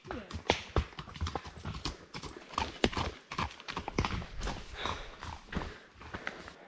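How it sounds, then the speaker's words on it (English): Several horses walk past on a mountain trail, their hooves clip-clopping in an uneven, continuous patter close by, with faint voices now and then. "So we just passed another group of horses."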